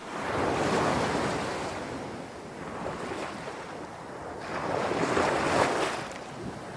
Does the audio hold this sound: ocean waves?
yes